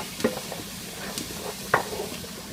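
Garlic sizzles in a pan for a buffalo chicken BBQ lasagna while a utensil stirs it, giving soft scraping strokes at a low, steady level, with two sharper knocks of the spoon against the pan.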